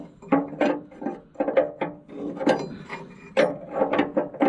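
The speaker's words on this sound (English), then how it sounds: "Now we're going to tighten the drain plug" A drain plug being tightened on an Allis-Chalmers D19 tractor, a wrench ratcheting in quick bursts of clicks with short pauses between strokes, close and fairly loud.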